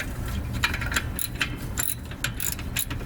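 A ratchet wrench loosens a brake bolt on a 2017 Sonata with a quick series of close, sharp metallic clicks that come in short bursts with brief pauses between them.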